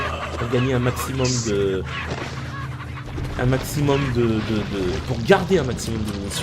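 Chickens cluck in short bursts in the Resident Evil 4 game while someone talks over them in French almost throughout.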